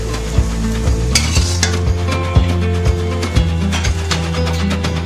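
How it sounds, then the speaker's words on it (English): Fresh clams stir-fried with Chinese basil, soy sauce and Shaoxing rice wine hiss and sizzle steadily in a hot wok, with regular scraping strokes of a spatula and shells clattering against the metal, loud and close. "I'm making another of her favourite dishes, fresh clams with Chinese basil, soy sauce and rice wine."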